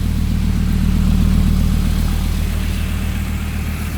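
Toyota MR2 with a VR5 turbo engine swap idling steadily up close, a continuous low rumble with a smooth, even tone and no talking.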